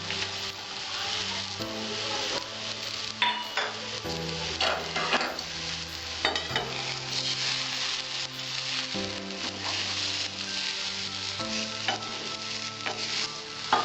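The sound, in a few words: peanuts and fried coconut added to frying pan, sizzling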